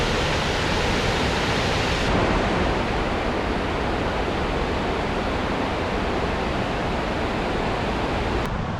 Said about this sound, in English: the New Preston Falls are overflowing huge right now